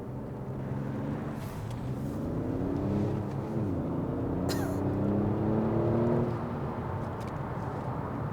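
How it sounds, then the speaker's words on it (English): A Kia Stinger V6 petrol car accelerates in sport mode, its engine note climbing in a smooth rising drone heard from inside the cabin, steady and moderately loud with no talking. "Certainly a good throaty noise off the car when you are accelerating in sport mode."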